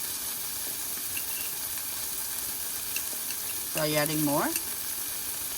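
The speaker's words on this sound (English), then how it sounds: "As you know, the turmeric needs to fry well." Turmeric frying in oil in a pan while making a yogurt gravy, a steady soft sizzling hiss throughout, with a person speaking briefly over it.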